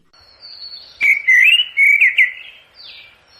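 A single bird sings close and clear, a run of high whistled and warbled phrases with short gaps, alone against silence.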